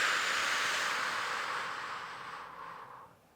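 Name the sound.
exhaling breath during Pilates exercise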